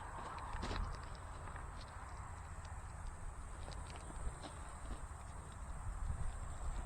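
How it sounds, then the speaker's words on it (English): Donkey hooves walking on a farm at dinner time, soft irregular clip-clop steps close by over a quiet outdoor background, with an occasional faint bird. "Don't let this donkey get you, Mac."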